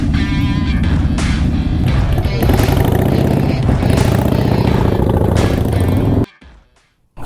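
Many motorcycle engines run together at a Hyderabad bikers' club event, a loud, dense, continuous rumble of idling and revving with no voices. It cuts off abruptly near the end, leaving near silence.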